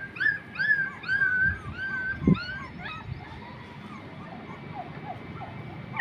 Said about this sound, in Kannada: ನೋಡ್ರಿಪ್ಪ ನಾಯಿ ಕುನಿಗಳು.